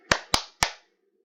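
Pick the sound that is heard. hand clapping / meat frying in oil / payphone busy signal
hand clapping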